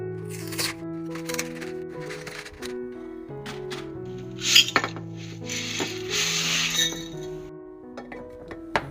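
Dry spaghetti slides and clinks into a tall glass storage container on a kitchen shelf, with a run of glassy taps and rattles under soft background music.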